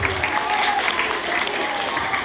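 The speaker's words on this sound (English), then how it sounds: "Give those people a big round of applause." Children and staff at a school assembly applaud in a continuous, dense round of clapping that fills the hall at moderate loudness with crowd noise mixed in.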